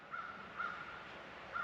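Local crows cawing in three short, separate calls spaced over under two seconds, moderately distant and fairly faint over a quiet outdoor background.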